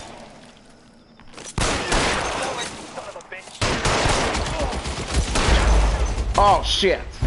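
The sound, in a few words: gunfire in the video game L.A. Noire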